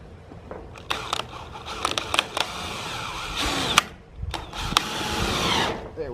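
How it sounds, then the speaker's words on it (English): Screw being driven through both metal parts of a lean-to shelter frame, heard up close as a series of short ratcheting, whirring mechanical bursts with brief pauses between them. "this will be the first time I'm screwing a screw through"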